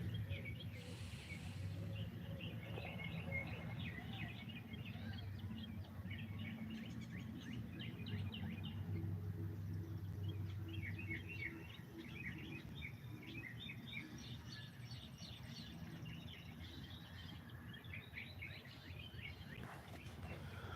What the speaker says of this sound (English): I did not realize how loud the birds were